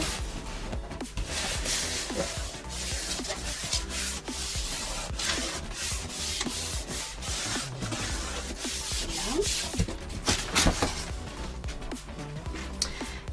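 Glued cardboard is pressed and rubbed firmly into a corner of a cardboard furniture piece, giving a continuous close, dry scuffing and rubbing with irregular strokes and no speech.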